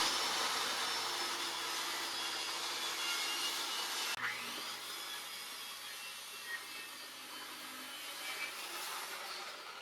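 A saw blade cuts steadily through pallet wood in a workshop, producing a continuous loud rasping whine with a brief shift in pitch midway as the cut continues, and no voices.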